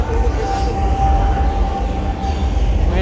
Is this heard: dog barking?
no